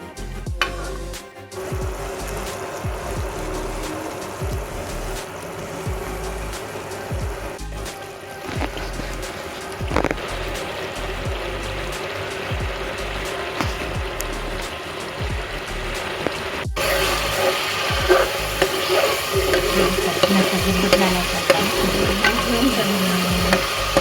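Coconut milk boils in a pot for homemade coconut oil, giving a steady, close bubbling hiss with occasional stirring clatter. The bubbling grows louder and busier toward the end.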